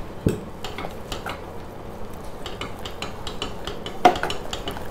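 Potato aval kova mixed with ghee in a pan, a spoon scraping and tapping against the metal in an irregular rhythm, close and fairly quiet, with a few sharper clinks.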